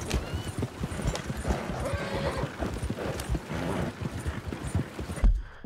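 Horses in Red Dead Redemption 2 neigh and whinny over a continuous clatter of hooves, with several animals close by and the clip-clop running steadily before a sudden cutoff at the end.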